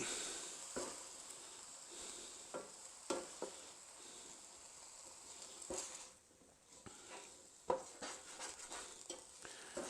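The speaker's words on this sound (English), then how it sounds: "And you want to stir that around to totally coat the meat." Flour being stirred into cooked sausage meat in a pan for low-fat sausage gravy: steady sizzling with a spoon scraping and tapping against the pan at irregular intervals, close and moderately loud, with no talking.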